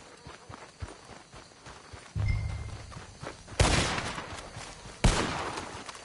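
Gunfire in the Western video game Red Dead Redemption during a race, a few sharp, loud blasts ringing out amid galloping hooves and quieter background rumble.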